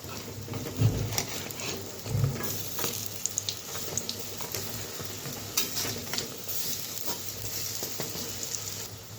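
Salted, turmeric-seasoned lentil fritters fry in hot oil with a continuous soft sizzle, and a couple of low knocks and scrapes come as they are turned in the pan.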